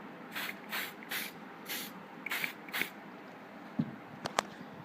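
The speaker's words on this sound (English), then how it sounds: "I'm just spraying this part here, and I'll spray it right now and show you what I'm doing" Six short hissing bursts of silicone spray onto Kawasaki Ultra 300/310 spark plug boots in quick succession, close and moderately loud, followed by a few small clicks and taps.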